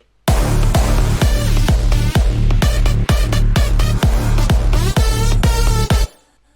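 Big room EDM drop with synth leads stripped of all effects, over a heavy steady four-on-the-floor kick: loud and continuous, with plainer, drier lead stabs, stopping abruptly near the end.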